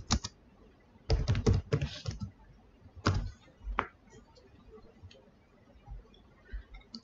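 Computer keyboard typing in a web browser search bar, with several bursts of rapid close key clicks followed by a few isolated taps and quiet pauses.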